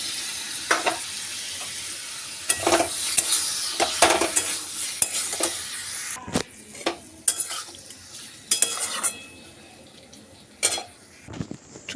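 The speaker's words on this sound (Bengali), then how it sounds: "এরপর আমি এর মধ্যে আগে থেকে কেটে রাখা সমস্ত চর্বিগুলো দিয়ে দিচ্ছি।" Chopped goat fat goes into a pan of spice masala and is stirred while it fries, with a steady sizzle, scraping spoon-against-pan strokes and clinks of utensils rising and falling in irregular bursts, close up and with no voices.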